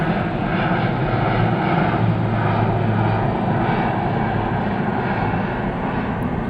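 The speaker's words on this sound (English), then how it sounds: "You heard the jet?" Jet airliner passing overhead near Pittsburgh International Airport, a loud, steady, broadband engine roar that fills the whole span with a faint low drone, no talking.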